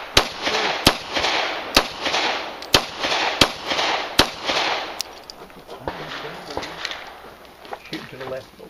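Sharp gunshots crack at an IDPA pistol match, about eight evenly spaced loud reports over several seconds, each followed by a short echo, with people talking nearby between and after the shots.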